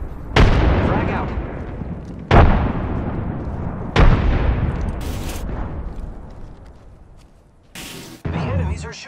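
Three heavy frag grenade explosions from the video game Apex Legends, each a loud booming blast with a long rumbling decay, followed by short bursts of gunfire near the end; a voice speaks over the action.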